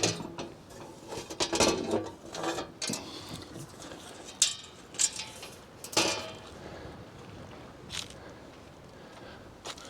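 Metallic clanks, clicks and ratcheting of a new blade being fitted on a Wood-Mizer LT40 sawmill, with pins and a clamp screw handled, irregular sharp knocks and rattles close by.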